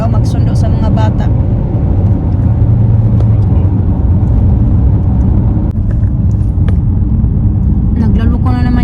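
A car driving along a road, its steady low engine rumble and road noise continuous and fairly loud throughout, with faint chatter and small rattles over it.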